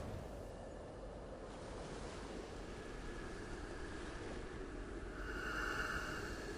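Ocean surf washing onto a beach in the video game Doorways, a steady low roar of breaking waves with wind, fairly faint and with no other sounds.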